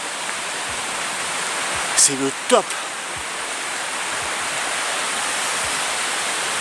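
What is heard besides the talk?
waterfalls along a hiking trail at L'Aigue Brun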